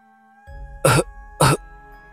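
Two short, sharp coughs ring out close by, about half a second apart, after a quiet start.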